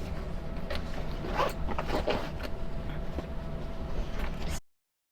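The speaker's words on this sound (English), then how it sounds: "I'm going to move the zipper out as far as I can" Zipper on a sewn Saltwater Shoulder Bag being slid along its recessed track, a few scraping bursts near the mic over a steady faint room hum, no voices.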